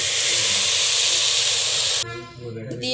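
Loud steady hiss of water poured into a hot pot of fried onions, spices and rice while cooking beef, lasting about two seconds before it cuts off and a voice speaks.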